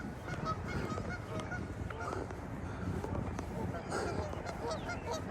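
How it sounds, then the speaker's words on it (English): Geese honk continuously in a noisy flock during an outdoor walk, the calls overlapping densely at moderate distance with no gaps, loud and busy throughout. "Now you guys can hear the geese."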